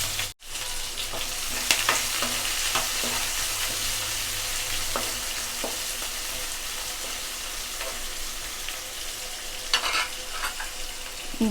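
Finely chopped onion and slit green chilies frying in oil with curry leaves in a pan, a steady close sizzle broken by repeated scraping stirs of a spatula over several seconds.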